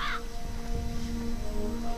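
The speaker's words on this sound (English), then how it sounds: "You can just hear the crows eating." Crows cawing in the Jagged Alliance 2 Wildfire game while feeding near bodies, with one harsh call at the start over a steady ambient bed of low rumble and faint tones.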